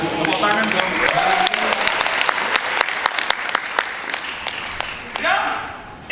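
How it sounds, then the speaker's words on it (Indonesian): Congregation applause during a revival sermon at an Indonesian church, with many hands clapping in sharp, distinct bursts and voices mixed in, thinning out toward the end. "Tepuk tangan dong."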